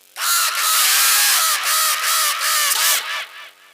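A man imitates a crow, letting out a long, loud, nasal caw broken into several harsh pulses, close up, during a nautanki folk theatre performance.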